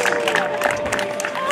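A crowd applauds and cheers at an enduro race finish in Isola 2000, the clapping dense and steady under a loud announcer's voice over a PA.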